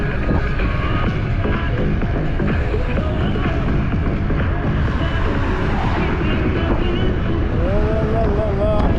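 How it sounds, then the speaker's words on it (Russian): Strong wind buffets the microphone in a moving car on a Crimean coastal road, a steady roaring rush that runs throughout beneath engine and road noise while people talk. "Капец, ветер."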